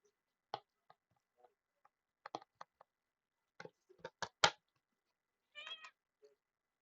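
A house cat meows softly indoors, with a few short, close meows spread among faint clicks and taps from small beads during a diamond art craft session.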